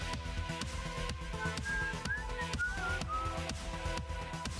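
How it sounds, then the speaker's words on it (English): A person whistles a short wandering tune over steady, loud background music, the thin whistled notes rising and gliding now and then above a busy beat. "Sorry about the whistling."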